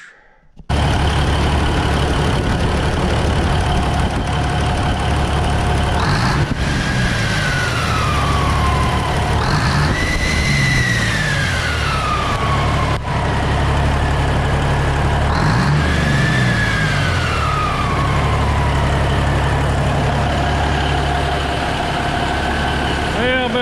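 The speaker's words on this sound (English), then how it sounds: "So I think we're ready for the first startup with the 350 Cummins injectors." A Cummins 855 small cam diesel with new 350 injectors cranks and fires, then settles into a loud, steady idle with a deep rumble and whining tones that rise and fall as revs change.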